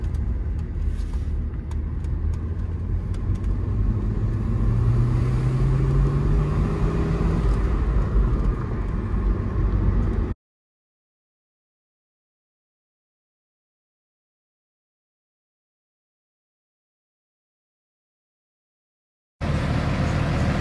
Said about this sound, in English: You can kind of hear the turbos.